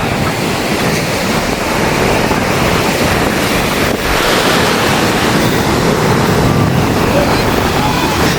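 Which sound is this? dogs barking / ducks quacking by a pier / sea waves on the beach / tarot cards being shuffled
sea waves on the beach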